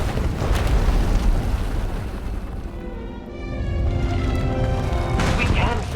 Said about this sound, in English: When it erupts, the entire asylum will be destroyed.